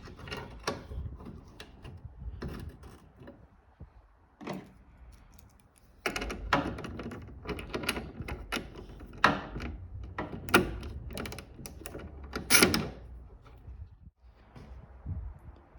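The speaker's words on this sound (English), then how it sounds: "grab our bolts, and just replace each one of these into their appropriate holes" Bolts being fastened into the tail light holes of a 2018 Toyota Tacoma TRD Offroad, heard as scattered metallic clicks and rattles, close and fairly quiet, in irregular bursts with pauses.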